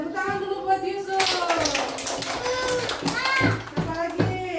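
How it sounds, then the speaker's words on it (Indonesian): Children in a classroom clap together as applause for a classmate, a dense patter of small hands mixed with young voices talking and calling out over it. "Tepuk tangan dulu buat Yusuf."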